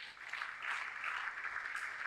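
A church congregation claps in a short, soft, distant patter of applause, steady and without voices.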